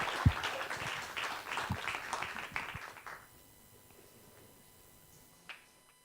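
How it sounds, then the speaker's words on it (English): An audience gives a round of applause as a woman comes on stage at an Earth Hour event, a dense clatter of hands for about three seconds that dies away into quiet room tone with a lone late clap. "may we give Ms. Fagutse a huge round of applause as she comes on stage"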